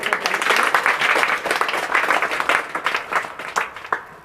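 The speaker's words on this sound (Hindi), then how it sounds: "तो उनके नाम पर एक ताली बजाइए।" Dense applause from a crowd of students at a Teachers' Day school gathering, a steady wash of many hands clapping for about four seconds, loud and sustained with no talk over it.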